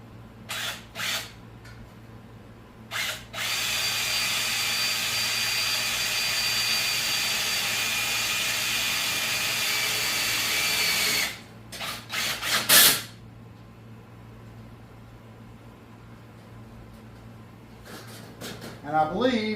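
A power drill drives self-tapping screws with a loud, steady whirring whine that runs for several seconds, followed by a few short bursts.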